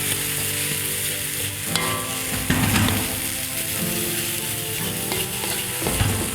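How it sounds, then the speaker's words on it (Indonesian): Cooked rice and leftover spice paste for nasi goreng kampung are stir-fried in a pan, with a steady loud sizzle and repeated scraping, clattering strokes of a spatula throughout. "masukin nasinya, terus jangan lupa nasi yang ini juga dimasukin dengan bumbu sisa tadi biar nggak mubazir bumbunya. Oke, habis itu tinggal deh oseng-oseng lagi."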